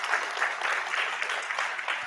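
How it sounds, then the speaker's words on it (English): An audience at a conference session claps steadily throughout, a dense, even wash of many hands with no voices over it. "We can give her a round of applause."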